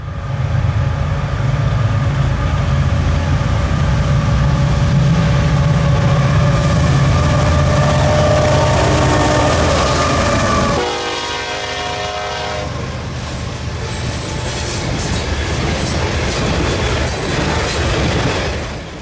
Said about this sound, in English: watch one lead a coal train through the quaint Montana town